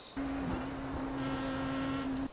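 A Star Mazda race car in the iRacing video game brakes and downshifts at Mount Panorama, a steady droning engine note holding over a rough, gritty rumble, moderately loud and without speech.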